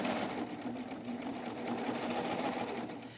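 A serger sews around a curve in fabric with a rapid, continuous mechanical whir and stitching chatter, close and steady with a slight dip midway, no talking.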